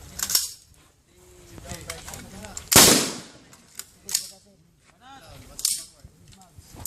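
Rifle shots on a firing range: a loud, sharp report near the middle, with fainter distant cracks and clicks before and after, and people talking between them.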